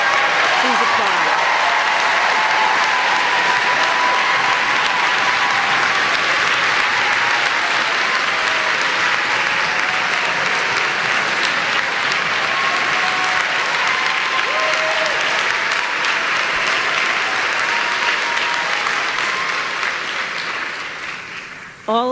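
A school of social work commencement audience gives graduates long, loud, sustained applause, a thick unbroken wall of clapping that carries on for a good while before fading away at the very end.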